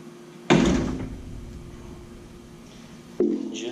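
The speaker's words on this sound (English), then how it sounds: "Now you're ready to let the cab back down" Cab of a Takeuchi TB153FR excavator being lowered back down, a heavy metallic thud followed by a fading rumbling ring, then a second softer clunk a few seconds later.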